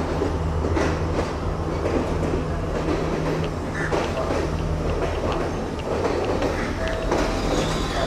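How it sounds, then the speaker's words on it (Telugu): A train rumbles into Colombo Fort railway station in Sri Lanka, a loud, steady low roll of wheels and carriages with clacks and brief metallic squeals over the top, and faint crowd noise around it. "ట్రైన్ ఏదో వస్తుంది"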